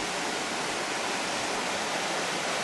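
Water rushes steadily through small rapids at an old log chute in Algonquin Park, a loud, continuous broadband roar with no pauses and no voices.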